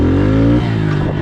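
Honda CRF110 dirt bike engine holding a steady, loud drone through a slow feet-down wheelie, pitch dipping slightly partway as the throttle eases.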